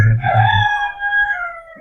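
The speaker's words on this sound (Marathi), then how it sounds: "पाहिलं कोंबडा ओरडला ना" A rooster crows once, a drawn-out strained call that trails off, heard fairly close.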